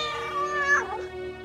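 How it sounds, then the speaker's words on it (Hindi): A house cat meows once indoors, a clear, close, drawn-out cry that rises and then falls, heard on its own. "लगता है बिल्ली कमरे में घुस आई"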